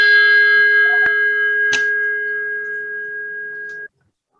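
A bell is struck to open a Rotary Club Brasília meeting, ringing with one clear metallic strike, a brief knock, and a sustained tone that rings on before cutting off abruptly.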